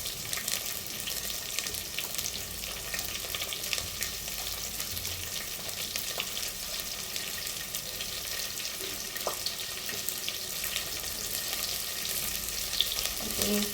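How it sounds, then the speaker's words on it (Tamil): Cut garlic and onion fry in a pan with a continuous close sizzle, steady and fairly soft, broken by a few faint clinks of a spoon stirring, with no talking. "பூண்டு, ஆனியன் எல்லாம் கட் பண்ணி போட்டு"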